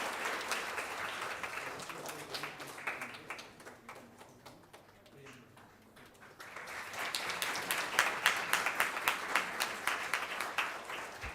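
Audience applause at a university induction program, dense clapping that dips in the middle then swells back loud and sustained, with faint voices underneath.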